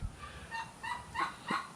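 White Leghorn chickens in a garden give a short series of four or five nasal, honking clucks, evenly spaced and fairly faint, with no other sound around them.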